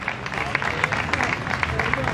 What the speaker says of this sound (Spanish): Un aplauso al Borre, por favor.